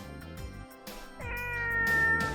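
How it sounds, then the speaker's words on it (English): A cat meows in the Muv-Luv EXTRA video game: a few short, close mews at first, then a longer, rising, drawn-out meow that swells louder toward the end, with no talk. "A cat."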